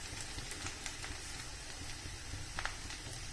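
Light sizzling of onions and vegetables being sautéed in a pan for a home recipe, a steady soft crackle close by with a few brief louder pops, no voices.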